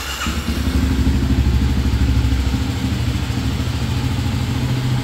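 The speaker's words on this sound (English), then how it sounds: "the test is to start it up and make sure that your engine doesn't blow up" A Kawasaki KLX300 motorcycle engine is started after an oil change. It catches quickly, then settles into a close, loud, steady idle with a clattery mechanical rumble and no speech.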